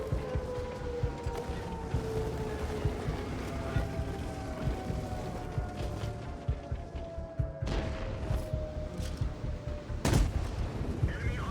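Tank cannon fire from HEAT shells in World of Tanks, heard as scattered booms and a sharp loud shot near the end, over continuous engine rumble and battle noise, with talk over it.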